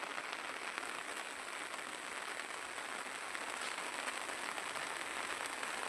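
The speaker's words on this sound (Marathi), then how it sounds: "म्हणजे मोठाच पाऊस आलेला आहे" Heavy monsoon rain pours steadily during a paddy harvest in rural Konkan, a dense, continuous hiss of drops drumming on surfaces close by with no talking.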